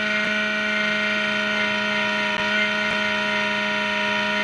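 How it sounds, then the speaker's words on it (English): An old, faulty computer gives off a steady mechanical whine and hum with many constant tones, plus faint periodic ticks. It is a continuous, moderately quiet drone with no talking. "And again, I apologize about the computer noise."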